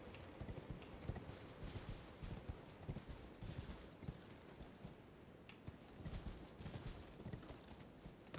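A horse gallops in Elden Ring with a fast, steady clip-clop of hooves throughout, fairly quiet and close, with no talking over it.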